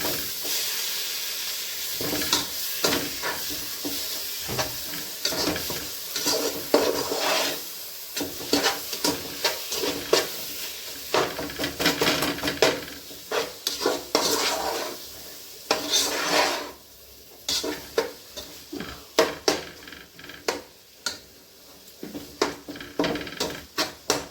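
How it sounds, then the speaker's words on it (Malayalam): Kera fish head curry is stirred in a pan with mashed cooked ingredients, making repeated scraping and rasping strokes of a spoon against the pan over a low sizzle. The strokes are close and irregular, with no talking. "നന്നായിട്ട് ഇളക്കണം, നന്നായിട്ട് ഇളക്കണേ."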